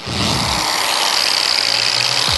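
Angle grinder spinning up for stainless steel finishing, a loud steady high-pitched whir that ramps in at the start and holds constant, heard alone at close range.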